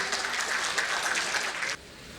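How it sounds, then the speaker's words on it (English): Brief, bright applause from an audience at an award summit welcoming the chief guest on stage, steady for under two seconds before cutting off. "Can we have a huge round of applause, ladies and gentlemen?"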